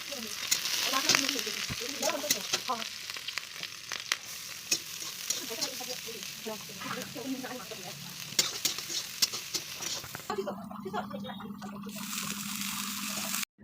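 Vegetables for momo filling fry and sizzle in hot oil in a wok, with repeated stirring scrapes and clatters over a steady crackle at moderate volume.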